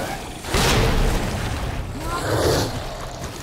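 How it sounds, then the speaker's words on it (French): A grenade goes off in a Resident Evil game, first with a loud booming burst and then with a second rumbling blast a couple of seconds later, both set against steady game noise. "Je crois que c'est une grenade."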